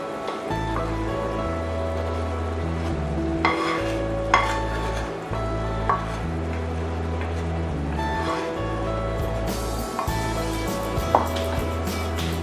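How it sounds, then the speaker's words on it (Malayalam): A spoon stirs butterscotch sauce into sautéed nendran plantain in a pan for a coconut payasam, soft scraping strokes and gentle sizzling, with a few clinks against the pan, close and alone. "ഇനി ഇതിലേക്ക് തയ്യാറാക്കി വെച്ചിരിക്കുന്ന സോസ് ചേർത്ത് ഇളക്കി കൊടുക്കാം."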